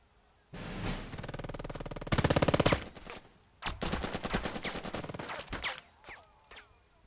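Bursts of rifle and machine-gun fire in a Burden of Command WWII battle at Meyers Hill, with sustained rattling volleys, a sharp dense burst, then scattered shots fading out, moderately loud with no talk.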